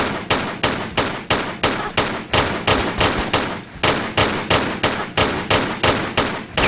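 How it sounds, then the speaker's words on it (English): Rapid, evenly spaced pistol shots from Tomb Raider 3 ring out loud and close, a steady stream of sharp cracks with barely a pause, no voices. "I'm just gonna take out this last guy with pistols"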